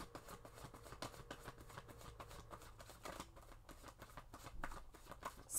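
Tarot cards are shuffled by hand in a quiet room, a soft, rapid run of riffling and flicking strokes that continues steadily throughout.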